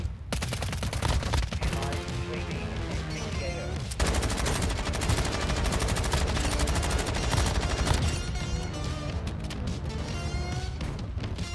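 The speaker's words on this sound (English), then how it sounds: "Alright, we're getting sniped." Sniper and other gunfire in Warzone Mobile: dense, loud, continuous bursts of shots and impacts that keep going for many seconds with almost no pause, close and overwhelming.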